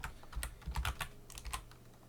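Quick irregular keystrokes on a computer keyboard as a command is entered into a Windows terminal, close and clear, in short bursts over about two seconds with no talking.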